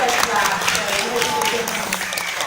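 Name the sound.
audience applauding at parrot show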